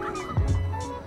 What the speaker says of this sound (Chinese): 大鹅